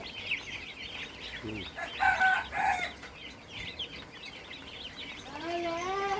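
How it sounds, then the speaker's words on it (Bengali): Broiler chicks from a 24th batch peep in a dense, continuous chorus of high chirps at moderate level, with a voice talking briefly near the end. "ব্রয়লার মুরগির বাচ্চা"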